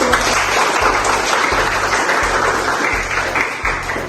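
Classroom applause from a group of students, dense and steady clapping throughout at fairly loud level, alone without talk.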